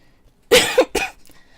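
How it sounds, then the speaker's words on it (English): Two sharp coughs close to the microphone, one after the other, in otherwise quiet surroundings. "sorry, the cough is still there."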